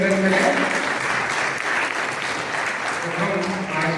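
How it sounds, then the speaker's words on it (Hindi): Audience applause at a community ceremony honouring senior members of a Maratha society, steady dense clapping filling the space for several seconds without a break. "परम तालियों से अभिनंदन करें।"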